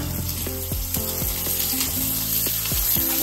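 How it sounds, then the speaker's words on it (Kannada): Mint leaves fry in hot oil for an egg chicken curry, giving a steady close sizzle with repeated scraping stir strokes throughout; nobody talks. "ಮತ್ತೆ ಪುದೀನ ಸೊಪ್ಪು ಚೆನ್ನಾಗಿ ಫ್ರೈ ಮಾಡೋಣ"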